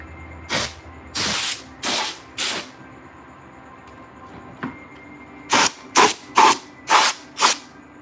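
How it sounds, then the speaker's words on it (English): Can of compressed air sprayed in short bursts to blow dust off a model base, nine loud close hissing blasts in two groups with a pause between, the last bursts quick and evenly spaced. "I'm just about out of compressed air in that can"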